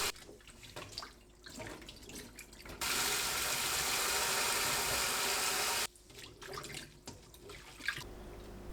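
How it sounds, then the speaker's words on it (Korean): Water from a tap pours over freshly boiled new-season peanuts in a sieve, a steady close rush of about three seconds between quieter splashing and handling noises. "20분 후 삶은 땅콩을 체에 거르고 물에 헹굽니다."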